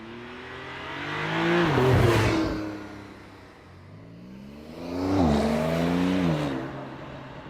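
Porsche 911 Targa 4S engine revving and accelerating in two loud surges, its rising harmonic whine climbing then easing between pulls, close and without talk.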